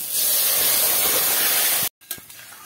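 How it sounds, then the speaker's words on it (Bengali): Cut gathi kochu (taro) curry vegetables tipped into a pan of hot, water-fried spice paste give a loud, steady hiss of sizzling steam for nearly two seconds, then cut off abruptly to faint stirring noises. "এবার দিয়ে দেবো আমি তরকারিটা ঢেলে দেব।"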